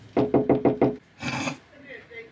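Five quick, firm knocks on a wooden door, evenly spaced, followed by a short scraping or rustling noise.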